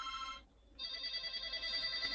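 A telephone rings in a training-course room, a steady electronic bell trilling in two bursts separated by a short gap, fairly loud and clear with no talking over it.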